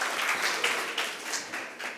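An audience at a question-and-answer programme on Babasaheb Ambedkar and the Indian Constitution applauds in a short burst of ragged clapping at moderate loudness that swells and dips briefly.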